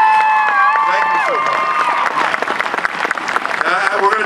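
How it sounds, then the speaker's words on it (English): Audience applause and cheering at an outdoor amphitheater concert, a loud, dense wash of clapping with some shouts, sustained through the clip with tonal sounds and voices overlapping early on. "Can we give her a round of applause, please?"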